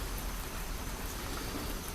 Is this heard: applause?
no